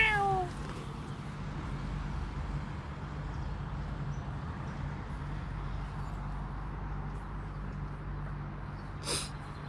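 A cat meows briefly at the very start near a car broken down with a dead battery in Germany, then a steady low hum and faint background noise follow, with one more short sound near the end.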